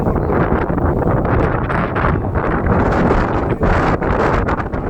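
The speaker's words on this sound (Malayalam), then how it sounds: "എന്ത് ശക്തമായ കാറ്റാണ്" Strong wind blows hard across the hilltop at Ramakkalmedu, a loud, roaring, buffeting rush battering the microphone continuously with gusting surges and no let-up.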